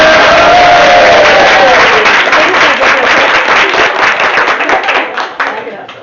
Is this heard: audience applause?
yes